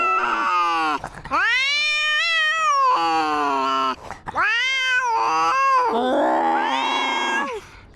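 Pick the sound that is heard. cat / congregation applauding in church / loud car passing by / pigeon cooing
cat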